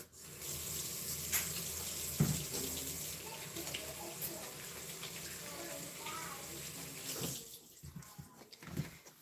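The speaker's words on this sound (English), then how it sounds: "Let me just wash my hands real quick." Running water from a kitchen tap during handwashing, a steady broadband rush lasting several seconds with small splashes and clinks, dropping away near the end, moderately close.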